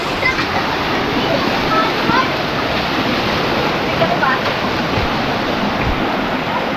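Floodwater rushes in a steady, loud broadband roar during a typhoon, a continuous torrent with no letup and faint voices beneath it.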